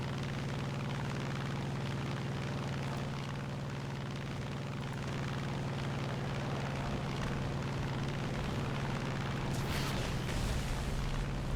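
Propeller aircraft engines drone steadily in a War Thunder air battle, a continuous loud hum with a low tonal core running the whole time, brightening briefly near the end.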